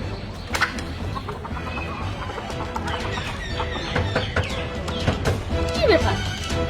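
A chicken clucking at close range in a household scene, its calls mixed with people talking loudly and some clattering.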